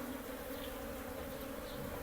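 Honey bees, Apis cerana and Apis mellifera, hum at their hive at a beekeeping site in Udalguri, Assam. The buzz is a steady, dense, continuous drone from many insects, close and unbroken, with no talking.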